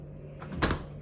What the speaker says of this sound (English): Okay, I'm closing the door.